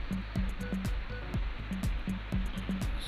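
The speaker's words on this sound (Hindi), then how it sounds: "थोड़ा थोड़ा पानी निकाल रही है मोटर" Steady rush of water pouring from a solar-powered tubewell motor pump running at low output, a continuous close splashing flow with faint low rhythmic thumps underneath.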